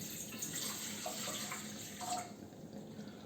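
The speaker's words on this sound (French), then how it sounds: "Nous allons d'abord ajouter l'eau." Water, 410 ml, is poured into the pan of a Moulinex OW220830 bread machine as a soft, steady splashing stream that fades toward the end, quiet and close.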